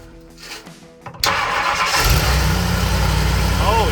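A 1964 Ford Galaxie 500 engine with a new carburetor cranks briefly, then catches with a loud roar and settles into a steady, rumbling run close by.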